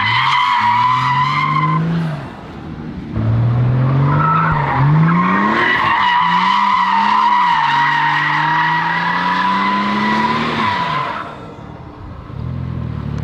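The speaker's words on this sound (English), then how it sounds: "that thing is one tire firing like crazy." A 2JZ-GTE swapped Lexus GS300 spins a single tire, its engine revving hard and rising in pitch under a loud, sustained tire squeal that wails for several seconds before cutting off and returning briefly.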